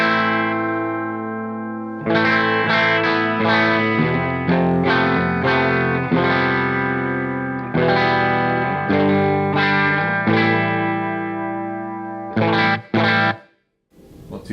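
Electric guitar played through the clean channel of a Mesa Boogie Nomad 55 amp head with controls at noon and reverb off, ringing chords and sustained notes in bursts with brief pauses, loud and close, no talking.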